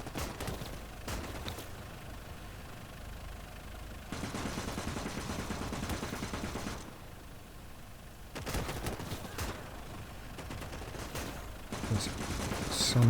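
Machine gun fire from an enemy gun position in the Gates of Hell strategy game, Finland campaign, comes in several sustained bursts of rapid shots between quieter pauses, fairly loud against background battle noise.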